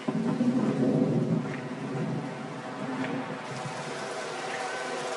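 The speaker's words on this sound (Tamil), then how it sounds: "மழை வந்துருச்சு." Rain with rolling thunder in a football cartoon, a heavy downpour hiss with a louder rumbling swell at the start easing into steady rainfall.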